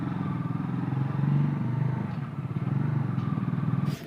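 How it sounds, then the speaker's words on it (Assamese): A Bajaj Dominar 400 motorcycle runs with a noticeably loud engine sound, its low throbbing exhaust pulsing steadily throughout, close by and unaccompanied by talk. "চাউণ্ডটো ইমান বেছি চাউণ্ড ওলাইছে বাইকৰ পৰা"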